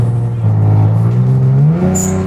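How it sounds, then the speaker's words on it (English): A Kia Stinger with a carbon hood revs loudly nearby, its engine note droning and rising before a sharp hiss of the blow-off valve venting near the end. "I'm gonna let you guys enjoy some blow-off valve noises."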